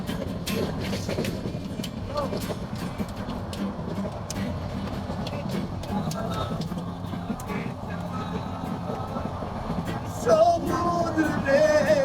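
Steady low rumble and rattle of the Turna Express intercity train running on rails at night, continuous throughout, with faint voices and a brief tonal squeal near the end.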